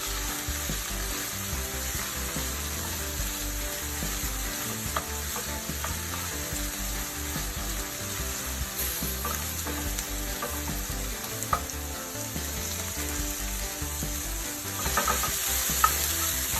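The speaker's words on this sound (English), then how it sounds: "Now we're just going to give this a nice little mix." A seafood dish with parsley and peppers stirred in a hot pan, a steady loud sizzle with intermittent scraping and clinking of the utensil, close and continuous.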